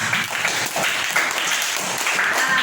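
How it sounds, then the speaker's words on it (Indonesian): Students clap together in a classroom, a dense, continuous round of applause, loud and close, holding steady throughout. "Tepuk tangan dulu buat"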